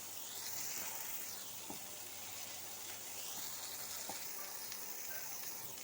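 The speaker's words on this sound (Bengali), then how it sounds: "দিয়ে এটা একটু ভাজছে মা।" Prawns fry in a pan with a soft, continuous sizzle, a low and even crackling hiss with faint occasional stirring ticks underneath.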